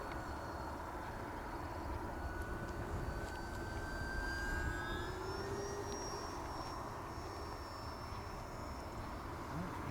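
Faint, distant drone of an Arrows 1400mm Sky Cruiser RC airplane flying overhead, its electric motor whine shifting pitch slowly as it passes, over a steady rushing background.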